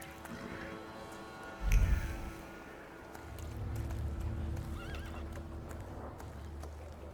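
A horse in the video game The Thaumaturge gives one loud, close whinny, then hooves clop in a steady rhythm over a low, quiet game ambience. No one speaks.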